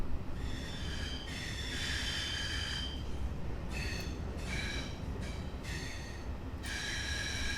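Video game train carriages roll along steadily with a low rumble, punctuated by repeated high metallic squeals from the wheels coming and going, no voices.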